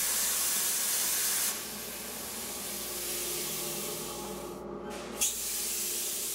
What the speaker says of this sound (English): actually shooting plasma, the fourth state of matter, at the metal to melt it